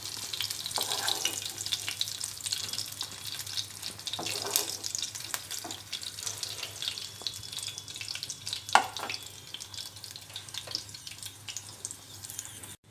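Green chillies frying in hot oil for a cucumber gongura chutney, a soft, steady crackling sizzle with occasional pops and spatula scrapes, fairly quiet and close, no one speaking.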